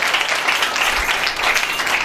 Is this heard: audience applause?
yes